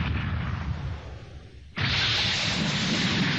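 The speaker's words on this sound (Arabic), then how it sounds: "مدفع بيد القرويين." Cannon fired by villagers in an animated Islamic cartoon about pirates and treasure: a loud sustained blast of explosive noise erupts midway, following a rumbling roar, with no speech.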